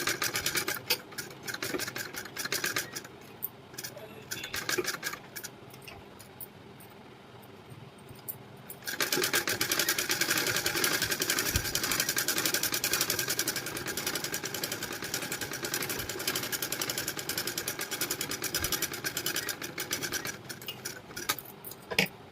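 A sewing machine stitches round a blouse neckline, a quiet stop-start whir at first, then a steady, loud continuous run of close mechanical stitching with no voices.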